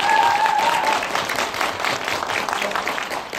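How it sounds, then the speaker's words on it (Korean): A theatre audience at a film screening's talk session greets the director and actors with warm, dense applause, steady many-handed clapping that fades slightly toward the end. "큰 박수로 환영해 주시면"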